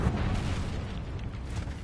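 An Incendio fire spell cast in Hogwarts Legacy, a loud, dense whoosh and roar of flame with low rumbling bursts that sustains briefly with no voices over it.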